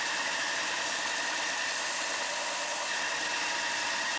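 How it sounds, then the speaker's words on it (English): A belt sander grinds a 3D-printed part for a full-size District 9 rifle prop, giving a loud, steady, unbroken mechanical roar that cuts off abruptly at the end. "I'm going to grind it on the belt sander"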